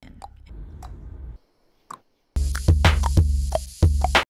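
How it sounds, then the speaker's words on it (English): A game character known as Paimon makes short, sharp clicks, repeated several times in an uneven rhythm, loud and close, with bursts of other noise in between. "why is Charlie making this clicking sound"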